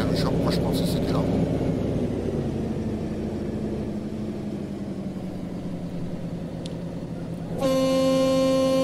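Car horn in Farming Simulator 2013 during a Christmas multiplayer session on an American map: a few short honks near the start over engine idle, then a long sustained horn blast at the end, with people talking throughout.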